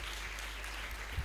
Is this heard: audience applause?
yes